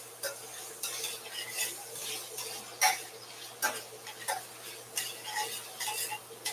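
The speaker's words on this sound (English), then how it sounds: "So I'm just taking my tongs and scraping off the fond" Metal tongs scraping browned fond from a pan after searing steak, a series of irregular scratchy strokes and light clinks at close range, no talking.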